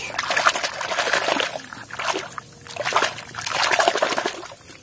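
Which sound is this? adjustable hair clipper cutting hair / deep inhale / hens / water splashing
water splashing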